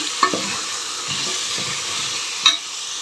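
Boiled dal and chopped radish for sambar being stirred and mixed in a pot, with wet scraping strokes repeating at a steady pace close by and a soft hiss underneath, no voices.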